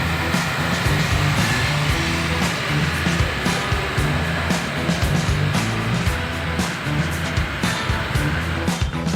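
A 2005 Toyota Innova engine held at a steady 2000 RPM by a pipe wedged against the throttle during a carbon-cleaning tune-up, droning loud and continuous up close with no pauses or talk.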